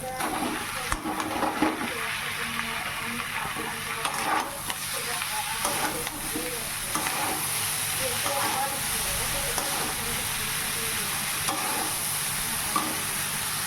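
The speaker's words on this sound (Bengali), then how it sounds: "এখন লবণ আর লঙ্কা দিয়ে ভালো করে ভেজে নেব" Continuous sizzling of vegetables and drained chow mein frying with salt and chilli in a wok, with intermittent scraping and clattering as it is stirred around the pan.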